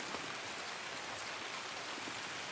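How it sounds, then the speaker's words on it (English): Rain falls steadily in the video game Escape from Tarkov, an even hiss of drops pattering on surfaces, soft and continuous with no voices. "Right, so raining."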